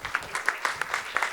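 Audience applause at a futsal team launch event, a sparse group clapping in rhythmic bursts with a few distinct close hand claps standing out, moderate in level.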